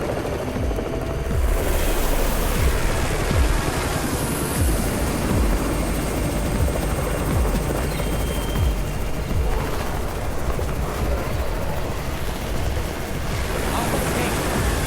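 A helicopter arriving in the video game Undawn: rotor chop thumps beneath loud wind and rushing noise, steady throughout, with a faint voice now and then.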